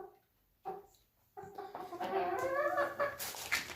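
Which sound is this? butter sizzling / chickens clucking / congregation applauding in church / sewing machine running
chickens clucking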